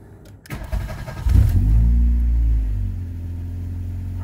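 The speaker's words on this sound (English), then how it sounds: "I haven't tried to start the car or anything yet" A car engine starting after its battery was charged overnight: a brief starter crank, then the engine catching and settling into a steady, loud idle close by.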